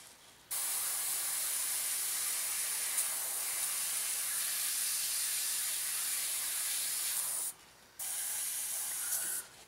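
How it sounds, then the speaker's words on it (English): Airbrush spraying a top coat onto a Revell 1/48 Junkers Ju52/3m plastic model kit, a steady close hiss held for about seven seconds, a short break, then a second burst. "just a quick spray over the top of this."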